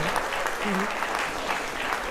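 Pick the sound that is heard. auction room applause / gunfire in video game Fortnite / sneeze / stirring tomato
auction room applause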